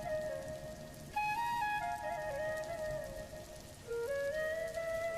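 Steady rain falls on a wet monsoon day, a continuous even hiss lasting throughout, with sustained high whistle-like tones sounding over it.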